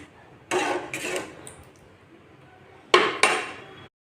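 A spoon scrapes and knocks against a metal cooking pot while dal and water are stirred, two pairs of close clattering strokes separated by a short pause.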